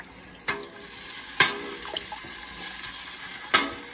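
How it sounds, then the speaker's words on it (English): A big wooden spoon stirs a hot pumpkin rum mash, giving sloshing liquid swirls with three or four sharper knocks and splashes against the pot, close and fairly loud. "So I'm gonna use this big wooden spoon and stir it up."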